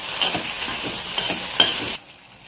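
Tomatoes sauté in a pan for garlic-tomato chutney, sizzling steadily at close range while a spatula stirs with a few scraping knocks. The sizzle cuts off abruptly near the end, leaving quiet.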